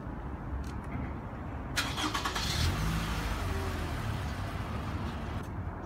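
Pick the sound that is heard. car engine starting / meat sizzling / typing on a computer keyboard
car engine starting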